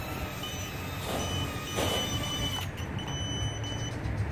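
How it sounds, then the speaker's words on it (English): A shrill electronic buzzer from a Furibee Q95 Dinosaur drone sounds continuously over a constant background whir and hiss, fairly faint. "We got the buzzer going off now."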